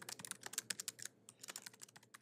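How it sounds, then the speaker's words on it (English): Quick bursts of keystrokes on a computer keyboard while typing in a text editor, close and crisp, with a short pause midway before the clicking resumes. "I can delete all of this and start typing about myself."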